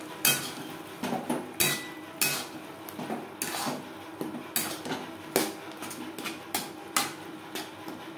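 Spices stirred in a pan for restaurant-style mutton curry: a spoon scrapes and knocks against the metal in a steady run of sharp clinks and scrapes, close and fairly loud, with no talk.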